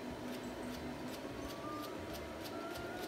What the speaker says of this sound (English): And you can watch as I increase the speed of the motor